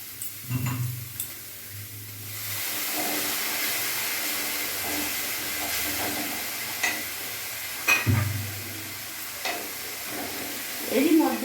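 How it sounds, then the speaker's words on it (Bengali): A spoon stirs a spice mix with Kashmiri chili powder in a hot pan for a taro stolon dish, giving soft intermittent scrapes and clinks over a quiet steady hiss. "এখন এগুলো ভালো করে নাড়বো আমি সামান্য একটু জল অ্যাড করবো"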